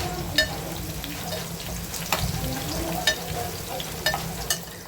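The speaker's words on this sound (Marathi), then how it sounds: "व बारीक केलेली लसूण एकत्र मिक्स करूया. त्याचमध्ये कढीपत्ता टाकूया." Garlic and curry leaves fry in a pan, a soft steady sizzle broken by a few sharp stirring clicks and scrapes, without speech.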